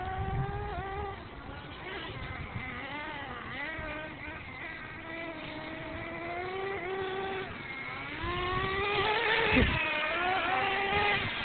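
Small RC monster trucks whine and rev steadily throughout, electric motor pitch rising and falling as they drive, with a louder burst near the end and people talking in the background.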